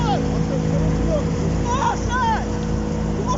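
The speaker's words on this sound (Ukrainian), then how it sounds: "Глуши мотор!" A motorboat engine drones steadily and fairly close, with a constant low hum running under shouting voices.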